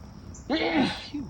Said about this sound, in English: I have to sneeze, Steve.